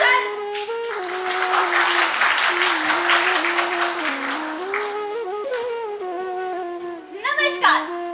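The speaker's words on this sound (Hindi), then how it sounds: "पसंद आए तो तालियां भी बजाना" An audience claps at a school theatre workshop performance, a dense patter of applause running most of the way through, with a voice speaking or singing over it.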